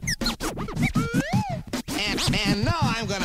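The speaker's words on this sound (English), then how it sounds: "And then I play my slide whistle." A slide whistle swoops up and down in looping glides, sounding over steady strumming and thumping percussion.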